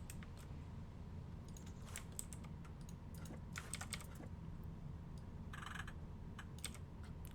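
A computer keyboard clicking while Planet Coaster is played, with scattered light key taps spread irregularly over a steady low background hum, quiet and with no talking.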